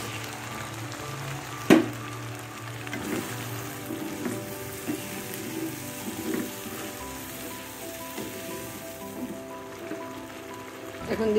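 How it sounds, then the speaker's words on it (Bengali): Beef rezala with chili, coriander and turmeric spices crackles and sizzles in a hot pan after a little water is added, a steady close frying hiss with one sharp clink early and soft scrapes. "আমি একটু পানি দিয়ে দিচ্ছি।"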